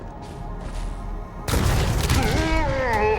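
Rocket explosions in the Halo video game: a sudden loud blast kicks in midway, followed by sustained rumbling booms and whooshing tones after a quieter stretch of game ambience.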